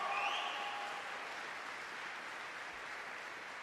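Audience applause for Colonel Spencer at Grand Forks Air Force Base, a soft, steady spread of clapping from a crowd that sounds somewhat distant and fades gently after a slightly louder start.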